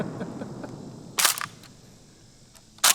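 Two sharp KSG-12 bullpup shotgun blasts fired at targets such as clay pots and a splat pack, the first a loud crack with a short echo tail and the second near the end, with a quiet outdoor background between them.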